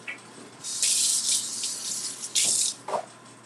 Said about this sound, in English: Gonna wash my hands.